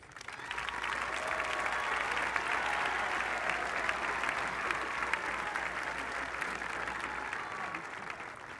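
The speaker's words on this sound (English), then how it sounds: "a round of applause please for Heatwave" A large audience at a drum corps championship claps steadily and loudly for several seconds, a dense wash of applause with no clear pauses.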